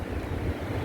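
Strong wind from a passing sandstorm roars steadily into the microphone as a dense, close rumble with no break and no voices.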